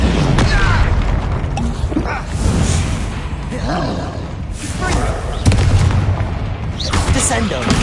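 Spell explosions in the Hogwarts Legacy video game, repeated booming blasts and thuds in quick succession, with a voice shouting incantations over the combat.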